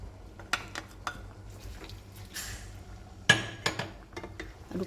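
A spatula stirring sapo tahu bakso with tofu and scallions in a wok, quiet scraping and several sharp metallic clinks against the pan at irregular moments over a low background hum.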